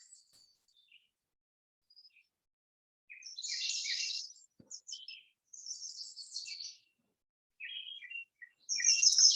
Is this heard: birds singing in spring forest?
yes